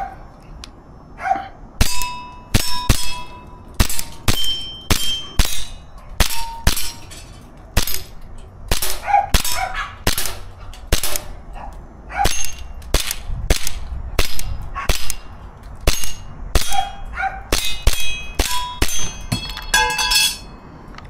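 A KJ Works CZ Shadow 2 CO2 airsoft pistol fires repeatedly at a target about 20 feet away, giving a long irregular series of sharp snapping shots, many followed by metallic clangs and dings of hits.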